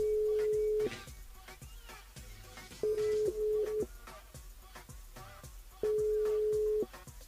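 A steady telephone line tone sounds in three separate spans while a number is dialed on a live radio show, loud and close, with quiet clicks and background noise between.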